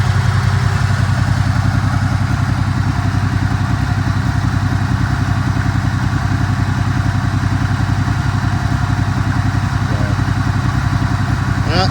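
A 1990 Pontiac Grand Prix engine runs close by with an uneven, lumpy idle from a misfire, its steady low thrum broken by irregular stumbles.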